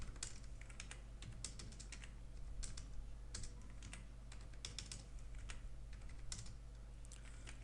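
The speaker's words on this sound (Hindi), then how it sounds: "नेम आप कुछ भी टाइप कर सकते हैं, उसके बाद सैलरी टाइप करें।" Rapid, irregular clicking of fingers typing on a computer keyboard while building an Excel spreadsheet, with steady keystrokes throughout over a low, constant background hum.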